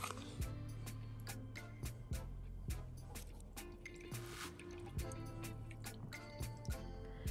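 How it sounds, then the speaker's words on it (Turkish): Aloe vera gel is added to rose water for a homemade skincare mix, with close, soft liquid drips and wet plops coming in an uneven series over a low background hum; no one speaks. "Gül suyuyla aynı ölçüde aloe vera jel ekliyoruz."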